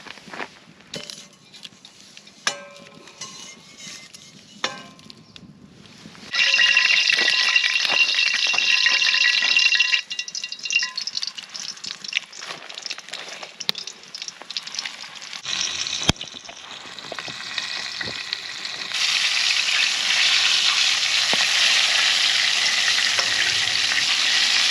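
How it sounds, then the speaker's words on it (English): Dinner fries in a pan beside a campfire, a steady hiss and sizzle that swells loud after a quieter opening with a few clinks of utensils, then dips and returns, with no talking. "Well, dinner's cooking."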